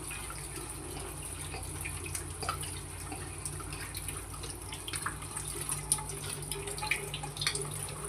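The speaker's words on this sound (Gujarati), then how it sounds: "તો જો આ રીતે ઠંડા પાણીએ ધોઈ નાખવાના." Cold tap water runs over boiled noodles being rinsed in a kitchen, a quiet, steady splashing stream with small irregular drips and spatters.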